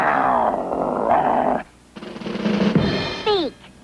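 A cartoon dog growls in a low, rough rumble for about a second and a half, then growls again more raggedly with a sharp yelp-like whine near the end, loud and close.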